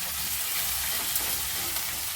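Sliced onions deep-frying in oil for chicken biryani beresta, a dense, even crackling sizzle heard close and steady throughout with no voices.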